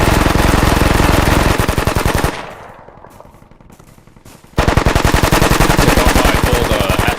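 M240 machine guns firing at a 600 meter target during a weapons squad exercise, loud rapid sustained bursts with a short lull of quieter distant fire before heavy firing resumes.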